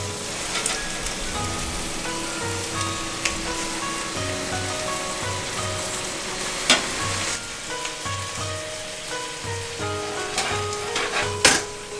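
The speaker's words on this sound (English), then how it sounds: "And now it's time to add the shrimps." Shrimp frying in butter and garlic, a steady dense sizzle with occasional louder spatter pops and stirring knocks, close and continuous with no voices.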